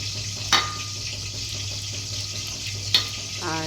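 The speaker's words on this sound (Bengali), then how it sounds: "মাছের মাথাগুলো ভেজে ভেজে রাখছি" Fish heads frying in a pan, a constant close sizzle over a low kitchen hum, broken by two brief sharp spits or clatters and a faint clink near the end.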